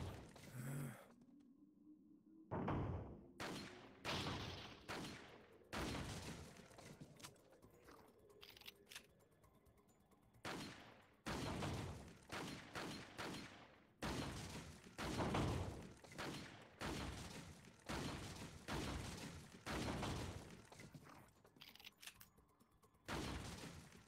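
Repeated bursts from a rapid-fire gun in Resident Evil 4 VR, played on a phone, arrive as short clusters of shots spread across about twenty seconds. Each burst is fairly faint and separated by brief pauses.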